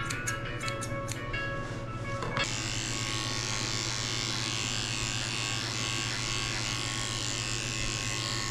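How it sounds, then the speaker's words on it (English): Electric clippers shaving the fur under the tail of a mixed breed dog, a steady close buzzing drone that continues unbroken throughout, with a faint change in tone early on as the blades meet the coat. "I'm shaving her potty path out under her tail where she goes to the bathroom"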